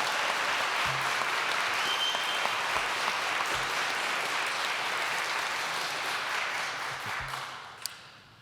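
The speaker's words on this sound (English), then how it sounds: "let's give them a huge round of applause" Steady applause from a graduation audience inside a university chapel, a broad even roar of clapping that holds for several seconds before tapering off at the end.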